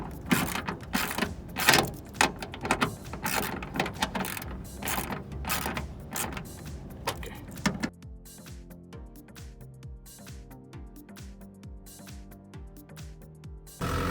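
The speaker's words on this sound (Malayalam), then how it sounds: "റാച്ചറ്റ് വെച്ച് ടൈറ്റ് ആക്കുക." Ratchet clicking as it tightens a screw on a front door speaker in a 2012-2016 Nissan Tiida, dense rapid clicks that then turn into slower, separate ratcheting strokes, close and quiet.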